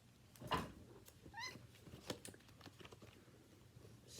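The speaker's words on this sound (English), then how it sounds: "Excuse me, that is my cat Wrigley." A pet cat lets out a couple of soft meows amid light tapping and clicking noises, faint and close in a quiet indoor room.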